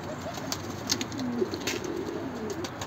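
Tumbler pigeons of mixed colours released outdoors on a sunny day, with soft cooing and a few brief chirps and wing sounds over steady outdoor ambience.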